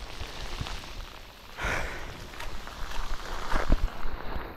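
Heavy monsoon rain pours steadily during a Mahseer fishing trip outdoors, a dense continuous hiss with a few louder splashes and gusts, heard alone without talk.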